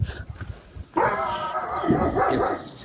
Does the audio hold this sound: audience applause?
no